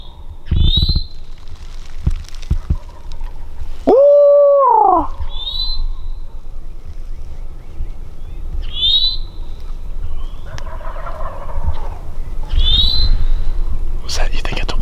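Wild turkey gobbling from the roost in Kentucky woods during spring youth season, several sharp gobbles repeating every few seconds at moderate distance, with a loud owl-like hooting call and faint rustling and murmured voices in between.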